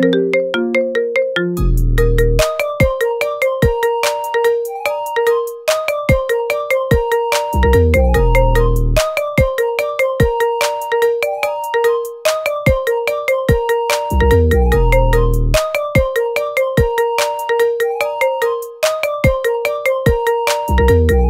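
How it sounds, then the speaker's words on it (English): A bright, plinking marimba melody repeats in a looping phrase, with bouncy mallet notes and periodic low bass hits, loud and clear. "Get this cool ringtone for your phone now."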